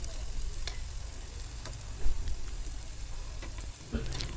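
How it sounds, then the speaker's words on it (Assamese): Oats pakoras fry in hot oil with a soft, steady sizzle and occasional light ticks and stirring taps, close and fairly quiet. "এনেদৰে ৰঙচুৱা হোৱালৈকে ভাজি থাকিম।"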